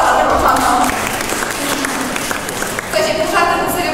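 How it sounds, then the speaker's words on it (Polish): Applause from an audience at a beauty workshop, a steady wash of clapping that fills the room and continues throughout, with a few brief voices mixed in. "Brawa dla tego pana."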